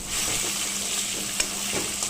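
Eggs fry in a pan with a steady close sizzle, broken by a couple of scrapes of a spatula stirring; no voices.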